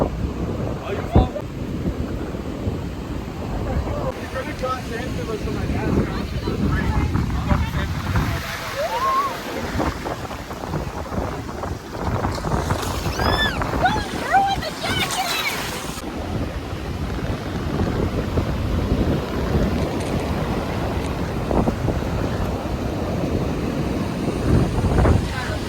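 Ocean waves wash onto a beach under strong wind that buffets the microphone. The surf roars continuously at close range, and people talk at times throughout.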